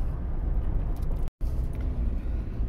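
Steady low rumble of a car driving, heard from inside the cabin, with a dull road and engine drone that drops out for a split second midway, otherwise even and constant, with no talk.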